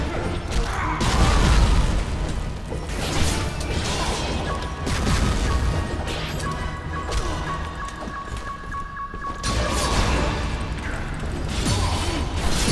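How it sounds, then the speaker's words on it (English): Combo bomb explosions in the video game Dust during a boss fight, a continuous din of booming impacts and clattering hits with a sustained tone in the middle, loud and busy throughout. "Combo bomb!"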